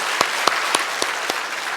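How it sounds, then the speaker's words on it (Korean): A church congregation claps, with several sharp, evenly spaced claps standing out over a steady wash of applause, fairly close and loud. "우리 하나님께 영광의 박수를 돌리겠습니다"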